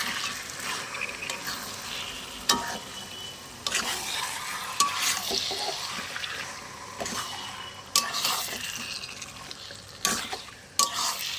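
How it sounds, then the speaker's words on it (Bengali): Mutton is stirred into a simmering gravy in a pot, with a soft frying sizzle underneath and repeated sharp spoon scrapes and knocks against the vessel. "এবার এটাকে আমি এই গ্রেভির মধ্যে ছেড়ে দেবো। নাড়াচাড়া করে নেবো।"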